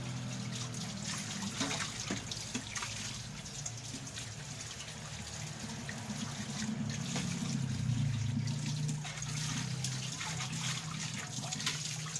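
Water runs continuously from a tap, a steady hissing splash that swells slightly midway, with faint clatter in the background.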